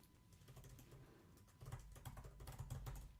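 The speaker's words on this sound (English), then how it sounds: "I'm not so fast in typing." Rapid computer keyboard typing during a live coding session: soft, irregular key clicks in quick bursts, quiet and close, growing busier and denser over the second half, with no talking.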